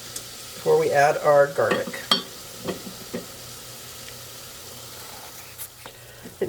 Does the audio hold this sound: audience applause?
no